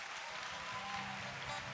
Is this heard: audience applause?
yes